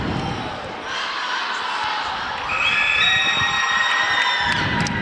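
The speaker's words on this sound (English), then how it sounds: "The Everest kids cheering, giving some encouragement to their team." Crowd of Everest high school students cheering at a DC Everest vs Mosinee high school hockey game, steady broad arena roar with whistles and rising shouts, loud and continuous throughout.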